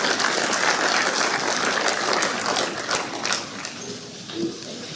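Audience applause at an opening ceremony for a Barbados diaspora consultation, a dense wash of clapping that stays strong at first, then thins and fades toward the end.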